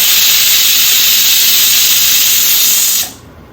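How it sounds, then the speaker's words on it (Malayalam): Pressure cooker releasing steam after cooking chicken shorba, a loud continuous hiss that holds steadily and then cuts off abruptly near the end. "ഇപ്പൊ കറക്റ്റ് കുക്കർ ഓപ്പൺ ആക്കി."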